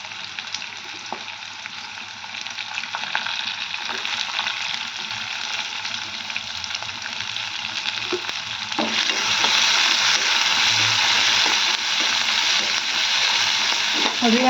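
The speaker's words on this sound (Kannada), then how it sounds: "ಈಗ ನೋಡಿರಿ ನಾನು ಉಳ್ಳಾಗಡ್ಡಿ ಕಟ್ ಮಾಡಿಕೊಂಡು ನೋಡಿರಿ ಅವು ಹಾಕ್ತಿದ್ದೀನಿ" Chopped onions and green chillies frying in hot oil give a steady, loud sizzle with occasional stirring scrapes, growing denser and louder partway through.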